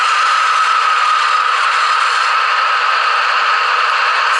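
An ESU HO scale DB V100 model diesel locomotive's sound decoder plays a steady, thin, rattling engine drone through a small speaker, loud and unbroken with no voices.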